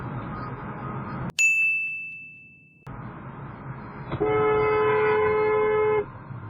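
A car horn blares in a long sustained honk from roughly 4 to 6 seconds, loud and close, over steady road and cabin noise, after an earlier bright ding-like chime.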